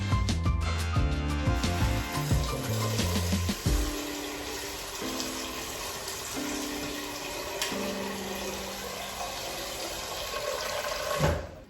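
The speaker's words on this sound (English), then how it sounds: "we're gonna add water in the pot until it covers the lentils" Water from a tap runs and splashes into a cooking pot over dry lentils, a steady close pour with shifting pitch as the pot fills, ending abruptly.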